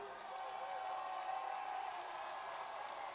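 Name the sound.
crowd cheering at college football game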